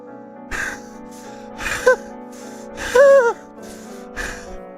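Morgana, a character in The House in Fata Morgana, hyperventilates in a series of sharp, close gasping breaths, five or so ragged inhales and exhales, some breaking into strained whimpering whines.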